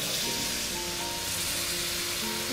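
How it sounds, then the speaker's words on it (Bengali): Steady, loud hiss of sizzling as water hits chicken meat in a hot pot, a continuous broadband crackle with no pauses. "মাংসে জল দিয়ে দিব হালকা"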